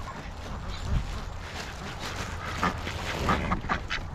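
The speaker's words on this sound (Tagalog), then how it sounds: "Yan po ay mga wild duck." Wild ducks quacking outdoors in New Zealand, a few scattered calls at moderate distance over steady low background rumble.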